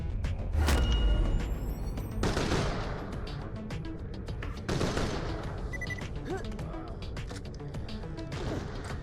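Gunfire and rocket blasts in Borderlands: The Pre-Sequel, repeated sharp shots and heavy booming impacts in dense, chaotic bursts with a low rumbling underneath.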